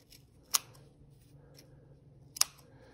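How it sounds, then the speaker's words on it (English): Two sharp scissor snips about two seconds apart, close and crisp, with faint rustling between them. "I'm using sharper scissors now so that I can really get in there"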